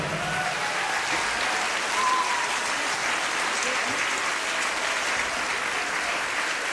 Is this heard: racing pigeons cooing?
no